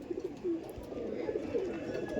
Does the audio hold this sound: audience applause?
no